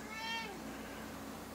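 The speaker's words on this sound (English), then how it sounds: "He's hungry." A single short meow from a hungry cat near the start, fairly faint over steady outdoor background noise.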